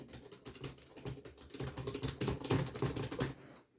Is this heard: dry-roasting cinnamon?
no